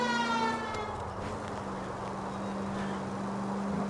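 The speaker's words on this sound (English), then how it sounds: "At least if you put the siren on, it'll let people know what's happening before you hit them, Phelps." A police car siren wails in the L.A. Noire video game, a steady rising and falling tone over a car engine's rumble, continuous throughout with no talking.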